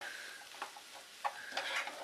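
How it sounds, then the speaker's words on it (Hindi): A spoon stirs a spiced potato filling with roasted cumin powder and chopped coriander as it fries in a pan for aloo paratha. Faint soft sizzling runs under a few light scraping strokes. "सभी चीजों को मिक्स करते हुए हमें आलू को लगभग 2 मिनट अच्छे से भून के तैयार करना है"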